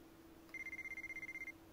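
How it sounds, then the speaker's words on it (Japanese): A telephone rings in the visual novel game WHITE ALBUM2, a steady electronic trill of rapid pulses lasting about a second over a low background hum. "電話。"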